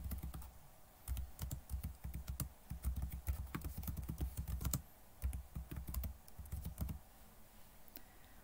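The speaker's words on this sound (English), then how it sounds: "Once I've typed it into the search box" Rapid, steady clatter of computer keyboard keys as an article title is typed into a search box, in close bursts with a brief pause midway.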